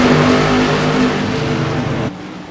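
CRA modified race cars roar at Five Flags Speedway as they accelerate after the green flag, a loud, steady engine drone that drops off sharply near the end, with no talk over it.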